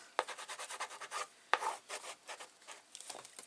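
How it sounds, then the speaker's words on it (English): A hand rubs firmly over freshly laid paper on a mini album page, a close run of quick scuffing, rasping strokes with a couple of sharper pats between them. "Give that a rub down as well."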